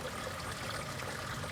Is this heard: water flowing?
yes